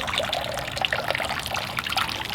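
Lukewarm tap water runs and trickles over the roots of a Pilea peperomioides during repotting, a steady close splashing stream with no speech.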